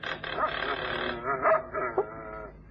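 Several dogs barking and yipping in an old time radio drama, a continuous excited chorus of barks with a few sharper yelps, close and fairly loud, with a voice briefly speaking over them.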